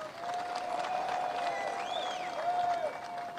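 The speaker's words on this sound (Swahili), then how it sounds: "Tumpige Makofi" A crowd applauds the winners at the WRC Safari Rally 2023 closing ceremony at Hell's Gate, Naivasha, with a steady, dense wash of clapping and a few whistle-like tones rising over it throughout.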